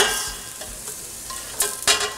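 Mushrooms sizzling and frying in a heavy pan for a turkey and mushroom marinara, with steady hiss and a few sharper scraping stirs near the end, close and alone.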